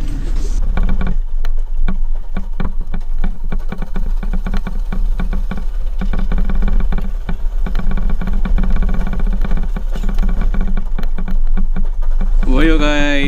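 Homemade off-road go-kart driven at full throttle over a rough dirt track; a loud, close, rattling engine roar runs steadily throughout, with a brief rising whine near the end.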